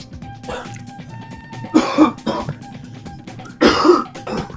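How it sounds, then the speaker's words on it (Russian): Two loud, harsh coughs about two seconds apart from a sick roommate in a workers' dormitory, close by, with quieter rustling and a faint cough-like burst earlier. "Там у меня сосед по койке кашляет, заболел."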